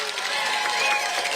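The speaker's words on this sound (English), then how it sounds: "Have a nice round of applause for your Hilton varsity cheerleaders." Crowd applause and cheering in the stands at a Friday night high school varsity football game, Hilton versus McQuaid, for the cheerleaders. Steady dense clapping with a continuous crowd roar and an announcer-style voice mixed in.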